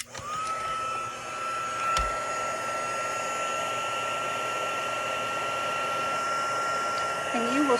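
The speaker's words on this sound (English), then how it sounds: "plug in my heat gun." A heat gun blows steadily on white embossing powder to melt it, a continuous close whooshing hum with a faint whine running the whole time.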